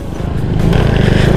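Ordinary motorcycle climbing a hill on a nature trail, a loud, close engine roar pulsing quickly as it labours upward, steady throughout the short span.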